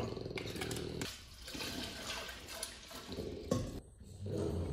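Milk is poured into a bowl for brioche dough, a rushing liquid stream that swells, briefly breaks off and resumes, heard close and fairly quiet.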